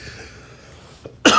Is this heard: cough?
yes